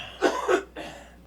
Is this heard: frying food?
no